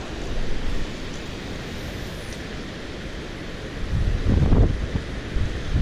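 Steady wind roars over an open riverbank at a spring fishing camp, a broad continuous rush with louder gusts buffeting toward the end; no voices.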